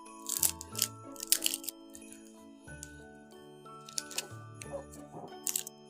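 Dry-roasted garam masala spices and crisp curry leaves crunch and crackle in short, brittle bursts while being handled, close and fairly quiet, with a steady tonal hum underneath.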